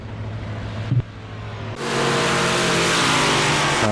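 Big-block race car engine in the iRacing video game at Eldora rises to a loud, steady roar after a brief thump, sustained at high revs.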